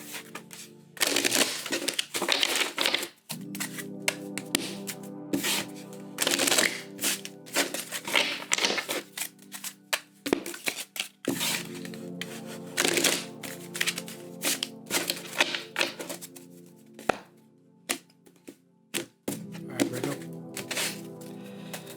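Cards are shuffled in several bursts of riffling and slapping, close and fairly loud, with short pauses between bursts and soft background music.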